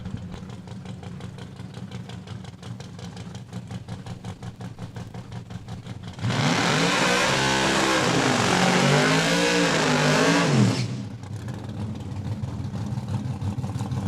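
A 1968 Camaro race car makes a licensing pass during a points race at Saskatchewan International Raceway in Saskatoon. A lumpy idle gives way to a sudden, very loud full-throttle roar lasting about five seconds, then drops back to a rough idle.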